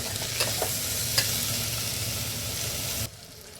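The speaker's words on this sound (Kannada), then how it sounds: "ಒಂದು ನಿಮಿಷ ಲೋ ಫ್ಲೇಮ್ನಲ್ಲಿ ಫ್ರೈ ಮಾಡ್ಕೊಳ್ಳಿ." Bitter gourd curry with chopped tomato fries on low flame in a pan, a steady soft sizzle with a few stirring clinks, then cutting off abruptly near the end.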